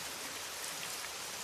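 Rain pours steadily in a dense, even wash of hiss with no voices, constant and enveloping throughout.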